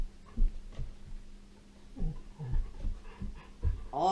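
A dog pants and breathes close by while taking a bone during hold training, with soft whimpery snuffles and a few mouthy sounds, the breathing rising and falling in short bursts.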